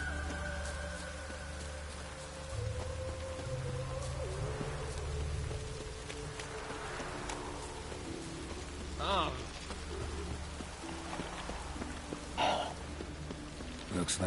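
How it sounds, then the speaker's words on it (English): Steady rain falls across a scene in The Witcher, a soft continuous patter with faint birdlike chirps and brief louder splashes. "It's been raining for the past, 5 minutes."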